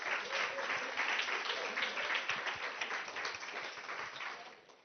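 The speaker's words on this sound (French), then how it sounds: "je pense que vous méritez de vous applaudir" Sustained applause from a conference audience, dense and steady for the whole stretch with no talk over it, fading slightly at the end.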